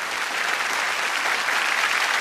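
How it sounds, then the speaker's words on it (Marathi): Applause from a studio audience on a Marathi village game show, a dense, steady wash of clapping at moderate loudness that carries evenly throughout, with no voices breaking through. "त्यासाठी टाळ्या झाल्या पाहिजेत"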